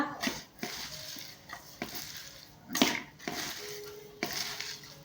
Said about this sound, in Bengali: এখন সুন্দর করে মাখায় নেই